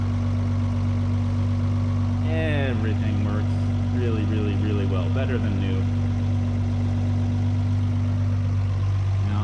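A rebuilt six-cylinder engine in a 1967 Land Rover Series IIA 109 idles steadily after a cold start, a low, even hum running throughout while someone talks over it nearby.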